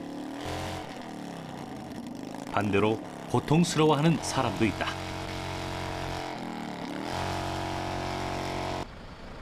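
An engine revs in several quick rising bursts mid-clip over a steady running drone, while a person speaks throughout.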